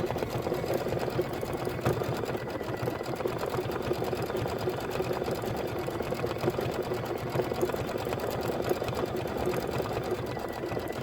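A sewing machine stitches a decorative outline and detail on a whipped cream appliqué for a quilted bench pillow, running as a steady, continuous mechanical whir with no talking.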